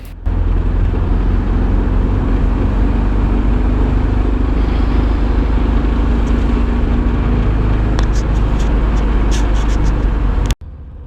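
A 1979 VW Super Beetle Convertible driving on the road, its steady engine drone and road rumble loud and close, running continuously before cutting off abruptly near the end.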